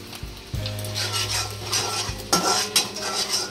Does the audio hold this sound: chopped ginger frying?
yes